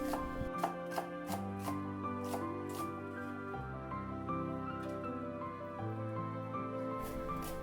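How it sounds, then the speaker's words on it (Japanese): Onions being cut with a knife on a board, a series of crisp irregular chops over quiet background music, no talking. "玉ねぎはスープに使う分と肉種に混ぜ込む用の2種類に切り分ける"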